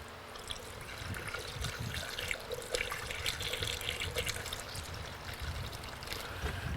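Tap water runs steadily into an Acura Vigor radiator, a continuous rushing pour that stays close and even throughout with no talking.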